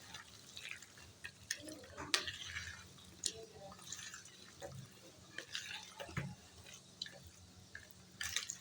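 Chopped vegetables being tossed and mixed by hand in a bowl make soft, wet squishing and light rustling in irregular bursts, quiet and close.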